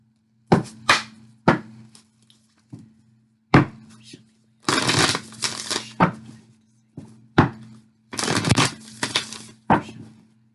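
Tarot cards are shuffled and tapped in a repeated pattern of sharp riffling bursts and thuds with short pauses between them, up close and with no talk over them.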